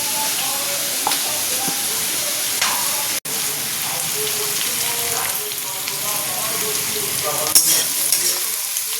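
Onions fry in a pan, a loud close sizzle with repeated scraping stirs and clinks of a utensil, a steady crackle running throughout with one brief dropout and no talking.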